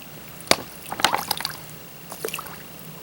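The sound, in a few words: filling water bottle from creek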